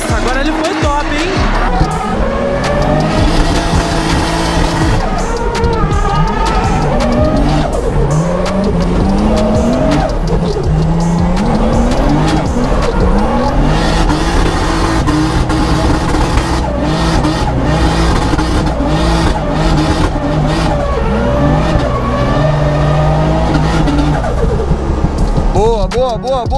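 A drift car at a drift championship roars through repeated tire squeals and skids, loud and continuous with engine revs rising and falling, while people talk and cheer over it.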